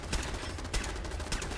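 Automated turrets in the Fallout London video game fire a dense, sustained volley of bullets, with rapid overlapping shots forming a loud, continuous rattle.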